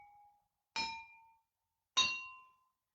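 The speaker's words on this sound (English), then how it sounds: "When we put the water in the glass, higher up in the glass the water is, the lower down the sound goes" Two glasses holding different amounts of water are struck one after the other, each giving a bright, clear ringing note that decays slowly. The second tone rings at a slightly different pitch, and a faint earlier ring is fading out at the start.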